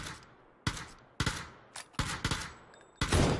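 Gunfire in the PUBG battle royale game, several sharp bursts of shots separated by short gaps, loud and punchy over a quiet background with no talk.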